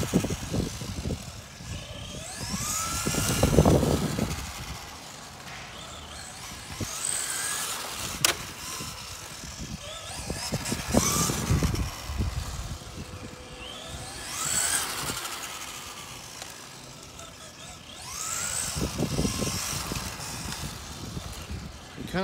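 Traxxas 4Tec 2.0 RC car with a Tamiya Ferrari 458 Italia body on a test drive, its electric whine swelling and fading in repeated passes as it drives near and away, fairly faint overall.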